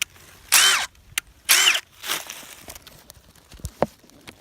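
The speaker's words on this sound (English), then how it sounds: "we got the fuel Milwaukee gun here. It's able to spin it off." A brushless Milwaukee Fuel impact driver spins a lug nut off a wheel in two short, loud bursts of whirring and clatter close by. Softer clanks and a few thuds follow.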